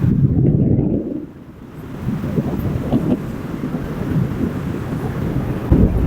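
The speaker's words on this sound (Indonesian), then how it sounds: "Jadi untuk kipas angin ini sudah bisa untuk tengok kiri, tengok kanan ya" A remote-controlled electric fan, repaired so it swings left and right again, runs with a steady broad whoosh of moving air close to the microphone, swelling and easing gently as the head turns.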